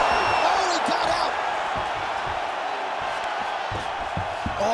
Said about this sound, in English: Oh, crowd just loving it as the fighters, after an extended grappling battle, make their way back to the feet.